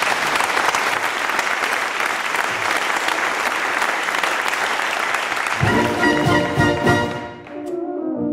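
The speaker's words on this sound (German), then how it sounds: "einen großen Applaus" Audience applause at an outdoor brass band concert in Murau, Austria, a dense sustained round of clapping that carries on loudly before a brass band begins playing over its fading end.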